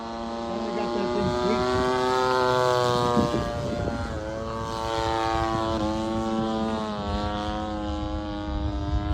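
Seagull Models Shock Cub RC plane with its electric motor running, a buzzing whine that rises and falls in pitch as the throttle changes, fairly close.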